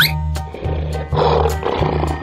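A cartoon lion gives a loud, close roar lasting a couple of seconds in a children's animal painting cartoon, with background music running beneath it.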